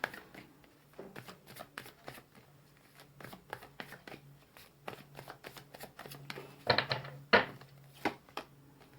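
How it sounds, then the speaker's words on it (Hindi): Tarot cards handled and shuffled on a table for an angel-message reading: a steady run of soft, quick flicks and taps, growing into a louder riffle burst near the end. "तो पहले कार्ड्स निकाल लेते हैं।"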